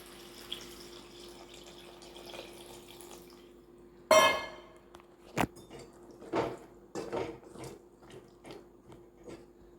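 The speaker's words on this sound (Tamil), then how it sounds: "இப்போ புளி தண்ணியை சேர்த்துக்கலாம்" Tamarind water splashes and pours into a pot of village-style dried stingray curry, followed by a few wet stirring and spoon clinks over a steady low hum.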